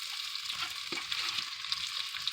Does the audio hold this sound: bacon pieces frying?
yes